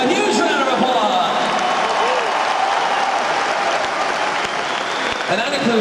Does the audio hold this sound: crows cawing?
no